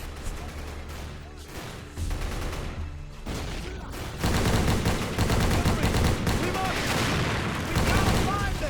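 Sustained gunfire in a Medal of Honor video game battle, loud, dense bursts that build heavier after a few seconds, with booms and layered battle noise throughout and no voices over it.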